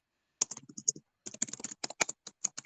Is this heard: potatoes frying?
no